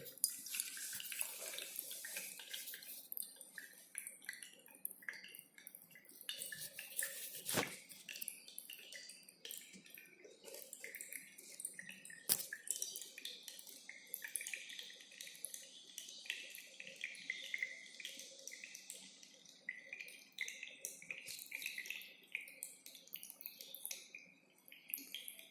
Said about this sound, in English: this is the flow of water into the beaker